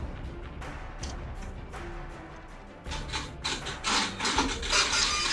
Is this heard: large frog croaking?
no